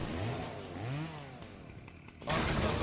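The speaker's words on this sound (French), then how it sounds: "J'entends une tronçonneuse." Chainsaw in the horror video game Tales Beyond the Tomb, a wavering motor drone that rises and falls in pitch, then cuts into a louder, harsher roar near the end.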